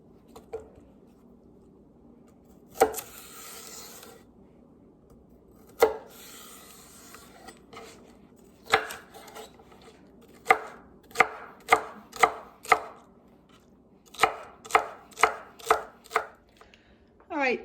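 Knife chopping boiled potatoes into quartered pieces for potato salad on a cutting board, a few slow isolated chops followed by quick rhythmic bursts of sharp, close thuds with no talking.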